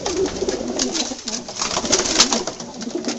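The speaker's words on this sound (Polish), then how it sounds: "Tutaj są gołębniki, gołębie które wysyłane są na loty." Racing pigeons in a loft coo continuously, a dense chorus of overlapping low burbling calls with flutters and shuffling, close and steady throughout.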